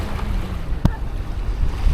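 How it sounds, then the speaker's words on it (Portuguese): A strong wind blusters across the microphone at a beach cove in Canajurê on a summer Sunday, a constant low roar mixed with the wash of surf and one sharp click partway through. "Está aqui um vento até que um pouquinho mais forte"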